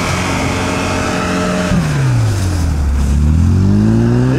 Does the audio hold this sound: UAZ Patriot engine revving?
yes